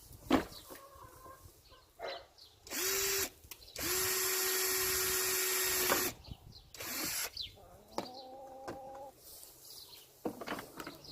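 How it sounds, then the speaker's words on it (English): A power drill drilling pilot holes whirs in short bursts, then one longer steady run, close by, with a rooster crowing faintly in the background between. "Drill pilot holes"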